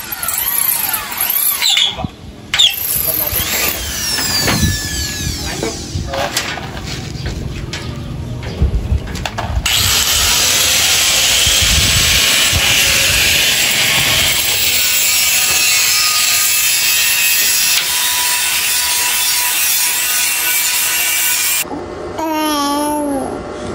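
An angle grinder runs loudly on a rooftop construction site, a steady broadband whine that starts abruptly and holds for about twelve seconds, preceded by scraping and knocking, with birds audible nearby.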